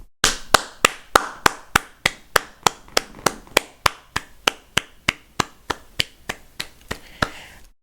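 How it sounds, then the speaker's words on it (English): One person claps slowly and deliberately, about twenty-five sharp, evenly spaced claps close to the microphone, each ringing briefly, with no other sound between them. "Only reason I started clapping"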